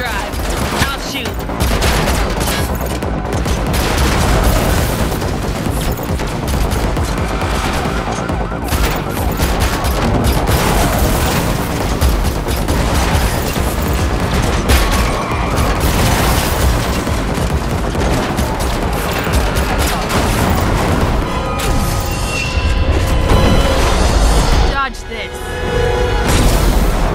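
Rapid gunfire bursts and booms crackle almost continuously through a car chase in The Matrix Awakens game, with sirens and voices talking over the loud shooting.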